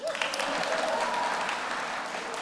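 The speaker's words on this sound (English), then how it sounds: "Let's do one more round of applause." Audience applause after a magic and illusion act on stage, a steady, dense burst of clapping from a seated crowd that holds evenly for a couple of seconds and then starts to taper.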